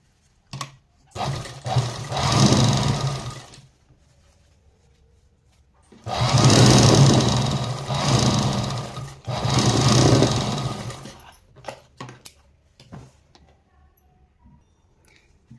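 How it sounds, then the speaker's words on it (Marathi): A sewing machine stitches fabric in bursts: a short run, a longer steady whir, two long sustained runs separated by a brief pause, then a few quick taps. Quiet gaps fall between the runs. "आता ही चारही साईडला शिलाई मारून घ्यायच्या"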